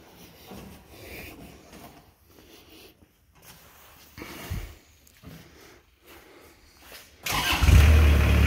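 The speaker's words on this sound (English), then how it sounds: "Hear that Kubota come to life." The Kubota engine of a 2012 Moffett M55 truck-mounted forklift with a 12-foot mast cranks and catches, bursting into a loud, close, steady idle after several seconds of faint shuffling and rustling.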